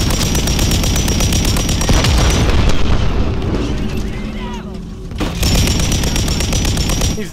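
Rapid light machine gun fire in a Call of Duty: Modern Warfare III match on a small map, loud dense bursts with booming impacts, a brief lull in the middle, then sustained firing again, with voices shouting over it.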